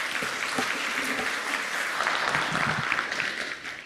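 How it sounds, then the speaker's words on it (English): An audience at a fall research center meeting applauds its session speakers, a dense, even roar of clapping that holds steady throughout and eases off slightly at the end. "can we get another round of applause for our NACC session speakers"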